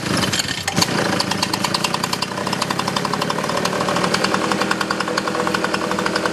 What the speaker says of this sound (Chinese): 所以好，我们现在大概可以拉一下，它那个开始发动机器。